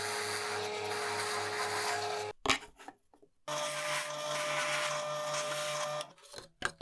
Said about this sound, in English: I'll first use a 1 inch Forstner bit to drill out each end.